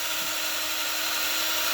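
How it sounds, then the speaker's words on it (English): Steady, high-pitched whine of a drill with a new bit boring holes through mild steel, continuous and close, with no talking. "So all the holes get drilled first because it's mild steel."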